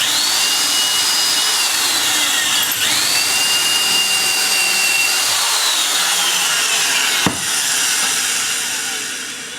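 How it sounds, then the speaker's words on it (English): A power drill bores a dowel hole into a wooden board, its motor holding a steady high whine for several seconds, briefly dipping, then ending with a sharp knock and winding down. "So we'll just drill that hole."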